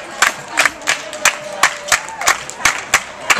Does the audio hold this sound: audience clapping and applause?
yes